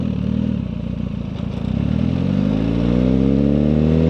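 A Suzuki GSX-R 1000R motorcycle ridden at about 25 mph makes a loud, steady engine drone heard close up, its pitch climbing smoothly toward the end as the revs rise.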